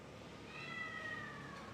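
A cat meows faintly in the distance, one drawn-out wavering cry rising over steady background hiss at a budget hotel in Sanur.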